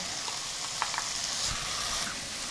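Chopped onions, carrots and celery sizzle steadily in a hot pan, a continuous close hiss with a few faint stirring clicks and pops, no voices.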